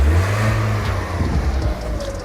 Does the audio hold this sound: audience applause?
no